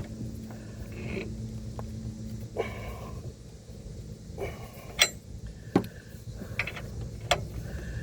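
A wheel stud drawn through a car's hub by a nut being tightened, giving scattered sharp metallic clicks and ratcheting ticks over a low steady hum, close by with no talk.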